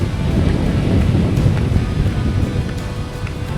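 Strong wind roaring against the microphone on a long glass skywalk bridge at Khao Tabaek in Chonburi, a loud, steady, low buffeting rush with no break.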